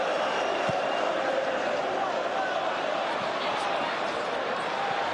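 Dense, steady roar of a football stadium crowd at a Manchester derby between Manchester United and Manchester City, a loud, continuous wash of massed voices filling the whole clip with no break.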